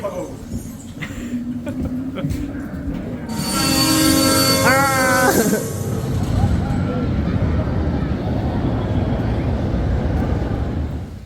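Express Platform 13, a roller coaster at Walibi Holland, rumbles along its track with a loud burst of screeching wheel squeal midway through the ride, while riders talk and shout over the steady mechanical roar.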